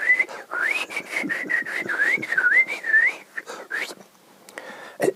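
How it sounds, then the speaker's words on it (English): A person whistles tediously and aimlessly, a steady wavering tune of short connected notes that runs for about four seconds before tailing off, then ends in a brief sharp whistle blip. The whistling is close and fairly loud, with no talking. "sometimes they'll whistle just to kind of break up that silence"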